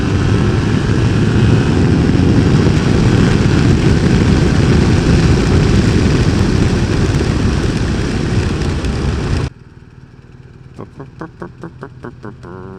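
A BMW R 1250 RS boxer motorcycle accelerates hard with quick-shifter upshifts, a loud, close, steady engine roar heard from the rider's position that cuts off abruptly near the end, leaving quieter wind and road noise.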